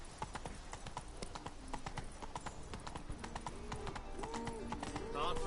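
Horse hooves clip-clop steadily in the Witcher 3 game as Roach trots along, a quick regular rhythm of close, crisp hoofbeats, with a voice talking over them and a brief whinny-like tone near the end.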